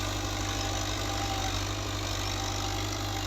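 An NH Dabang tractor engine runs steadily and loudly with a constant low rumble, pulling a seven-tine chisel cultivator through a field, with no talk.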